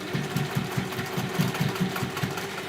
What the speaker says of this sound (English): I am now going to just sew across that end.